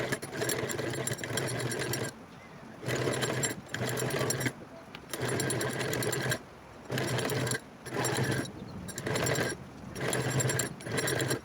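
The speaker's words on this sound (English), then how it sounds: "Let's go to our machine and sew again." Sewing machine stitching pleated turban fabric, running in repeated bursts of steady rapid whirring and clatter lasting one to two seconds, with short quiet pauses between runs, close and clear.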